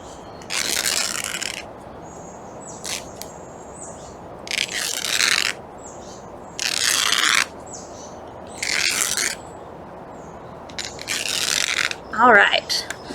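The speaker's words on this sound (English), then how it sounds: "I'm kind of just going to rip till I get to the top of the shirt." An old red cotton t-shirt torn by hand into strips for dog toys: about six loud, raspy ripping bursts, each roughly a second long, separated by short quiet pauses, close up, with no speech.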